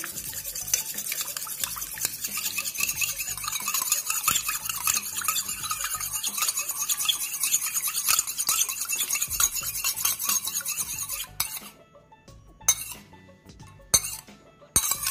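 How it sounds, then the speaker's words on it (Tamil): A salt mixture for homemade glycerin gets stirred in a glass bowl, with continuous scraping and light clinks of a spoon against glass that thin out near the end, alone without talk. "இதை இப்போ நல்லா மிக்ஸ் பண்ணிக்க போகிறேன்"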